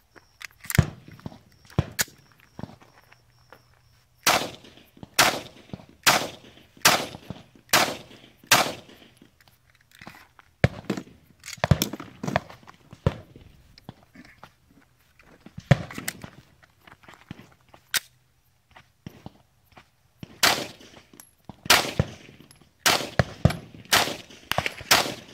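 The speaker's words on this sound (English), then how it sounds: "I'm going to fire 5 rounds out of each one of these pistols." Sharp 9mm pistol shots from a Sig Sauer and an H&K, fired outdoors in short strings of single rounds, each crack loud and distinct with pauses between the groups.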